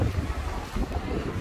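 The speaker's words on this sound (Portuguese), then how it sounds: "tá um vento muito gostoso" Wind blowing at the beach, a low gusty rumble buffeting the microphone with faint surf-like wash beneath, brief and fairly loud.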